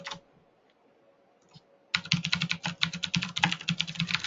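Rapid, close typing on a computer keyboard, a dense run of clicking keystrokes, begins after about two seconds of near quiet as a search is entered.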